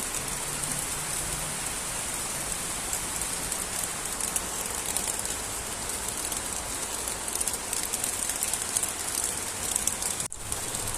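Continuous rain has been falling since the night before, a steady, even hiss of drops striking surfaces that lasts throughout, with a brief dip near the end. No one speaks.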